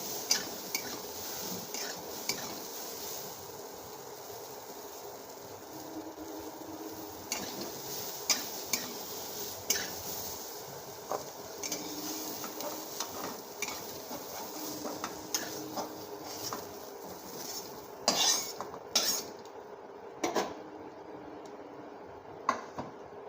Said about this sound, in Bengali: বেশি ভাজবো না সামান্য একটুখানি নাড়াচাড়া দিয়ে তুলে নেবো